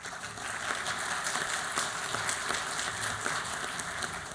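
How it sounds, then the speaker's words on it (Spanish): A forum audience at a senate economic-package debate inauguration gives sustained, even applause, a steady dense wash of many hands clapping throughout. "Les damos nuevamente un fuerte aplauso."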